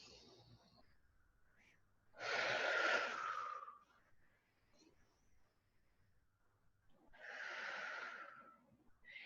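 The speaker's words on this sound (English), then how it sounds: "Take some deep breaths here" Deep breathing during a yoga session: two long, loud breaths at close range, each a broad airy rush lasting about two seconds, with quieter breathing and low background noise between them.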